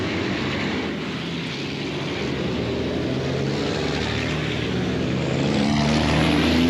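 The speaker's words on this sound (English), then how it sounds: "the trucks have made their way out onto the track" Racing trucks with 13-litre six-cylinder single-turbo diesel engines roll out onto the Le Mans circuit, a loud continuous engine drone with low rumble that builds slightly in intensity as the vehicles approach.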